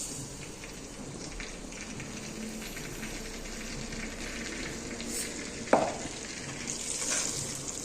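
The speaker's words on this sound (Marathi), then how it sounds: "हा रवा चांगला आपल्याला भाजून घ्यायचं आहे." Semolina roasting in ghee in a pan, a soft continuous crackling sizzle at low level with one sharp scrape of a utensil near the end.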